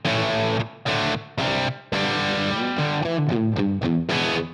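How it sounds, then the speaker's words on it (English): A distorted electric guitar plays through an amp and cab into reverb on a Line 6 Helix/HX Stomp: a few separate chords with gaps, then a quicker run of notes, loud and close. "So all we're hearing is the amp and cab straight into the reverb."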